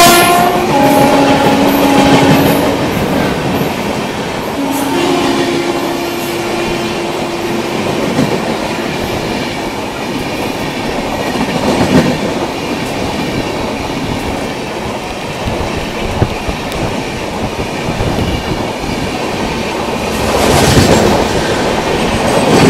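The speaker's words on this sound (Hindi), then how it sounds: "अभी जो ये जो ट्रेन आप देखे थे ना वो बापूधाम मुजफ्फरपुर जो ट्रेन थी ना वो थी" Bapudham Muzaffarpur passenger train rolling through Belthara Road station, a loud continuous rumble of wagons and clattering wheels with horn blasts near the start, sustained throughout at close range.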